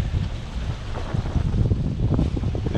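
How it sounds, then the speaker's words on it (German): Steady wind roars and buffets across the microphone aboard a sailboat at sea off the Pacific coast of Mexico near Acapulco, with a broad, continuous rush that swells and gusts throughout, no voices present. "Wir haben wieder Wind."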